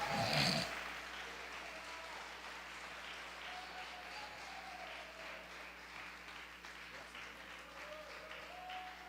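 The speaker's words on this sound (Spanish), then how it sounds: "Si lo vas a aplaudir, apláudalo." A church congregation applauds during a sermon, a steady wash of clapping that holds for about nine seconds at even volume, with a brief louder burst at the start and a faint low hum underneath.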